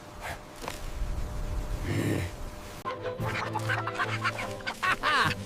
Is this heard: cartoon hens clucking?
yes